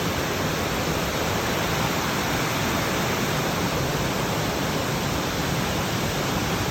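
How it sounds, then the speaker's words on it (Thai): Steady, full-bodied rushing of falling water at Whatcom Falls, Washington, constant and loud throughout with no voices or breaks. "ลงไปน้ำตก"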